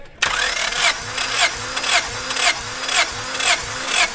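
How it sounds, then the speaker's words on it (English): A Honda B18 engine in a Civic cranks over at wide open throttle during a compression test, a loud, close, rhythmic starter whirr with regular compression pulses about twice per second and no firing. "Wide open throttle, and then crank over until I say stop."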